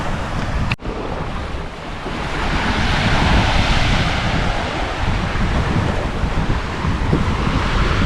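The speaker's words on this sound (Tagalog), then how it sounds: "Ano na, kalmang-kalma na yung dagat. Ang alon nandito na lamang sa gilid." Calm sea waves wash gently along the shore in a steady, broad rush with wind buffeting the microphone throughout, including one brief handling knock near the start.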